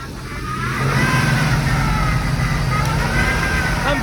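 A Toyota Supra Mark 3 barn find catches and settles into a steady, loud idle with light revving, its engine droning continuously near the microphone while voices chatter briefly over it.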